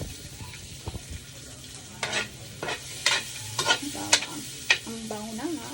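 Onion and garlic sizzling in a hot pan, with scraping stirring strokes and sharp crackles rising over a steady hiss, close up.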